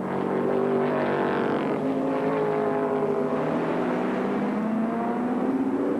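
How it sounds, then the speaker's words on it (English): A Ford Falcon sports sedan threads through traffic in a mid-1980s Australian race, engines droning loudly with rising and falling pitch as several cars pass close by, with no voices over the roar. "Hubbard weaving his way through the traffic in the Falcon."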